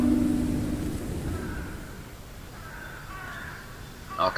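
In the video game Hello Neighbor 2, a crow lets out a few harsh caws, moderately loud over a steady ambient background hum, with a sharper call at the very end.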